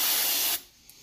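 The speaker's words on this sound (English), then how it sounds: "I'm basically spraying it, letting it soak for a minute or two" Brake parts cleaner sprays onto a supercharger inlet in one loud close hiss lasting about half a second, then cuts off, followed by a faint tap.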